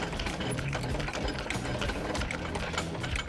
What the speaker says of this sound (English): You grab your wind arm bar, which is this, a 19mm socket on the end of it, put it inside, and you wind it out.